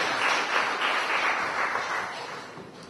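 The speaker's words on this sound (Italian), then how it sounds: "Un applauso, grazie." An audience applauds at a conference on the armed forces' humanitarian missions, a dense, steady wash of many hands clapping that holds at full strength, then eases slightly toward the end.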